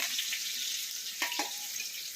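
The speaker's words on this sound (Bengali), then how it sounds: "বন্ধুরা, ডিমটাকে ভেজে নেব কড়াইতে।" An egg fries in hot oil seasoned with a little turmeric and salt in a kadai wok, giving a steady bright sizzle with a couple of brief louder spits and crackles near the middle.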